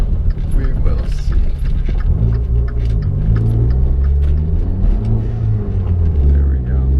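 A Dodge Dart with a 1.4-liter turbo engine driving on the road, a loud steady low rumble with engine drone rising and falling, under an ongoing voice from inside the car.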